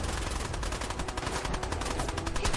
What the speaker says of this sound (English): machine gun turrets.